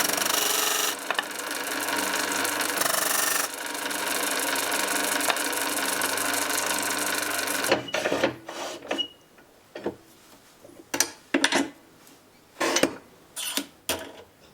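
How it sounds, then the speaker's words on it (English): Zebrawood pen blank being sanded on a spinning wood lathe for a rollerball pen: a loud, steady grinding whir for about eight seconds, then short intermittent bursts separated by near silence. "on the other side we need to sand it down to where the tubes are"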